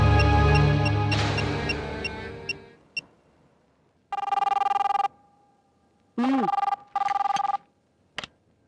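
A telephone rings and fades, then a few clicks and repeated electronic dial tones in short bursts, like a phone being dialed.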